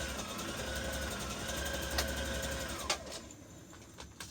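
A sewing machine stitches the hem of a Butterick 5559 misses' dress in a steady mechanical run, then stops partway through, leaving a few faint clicks and handling sounds.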